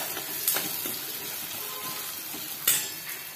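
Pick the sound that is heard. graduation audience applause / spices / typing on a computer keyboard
spices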